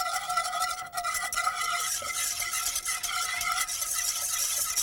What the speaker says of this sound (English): you can add it all together and then you can use a whisk